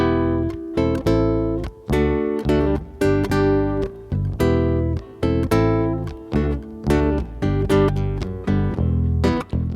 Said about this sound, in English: the bass and the guitar sound like this.